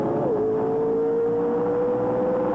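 A drag racing car from the 1978 NHRA Sportsnationals runs down the strip past the finish line at about 120 mph. It makes a loud, steady engine whine whose pitch dips briefly and then holds level.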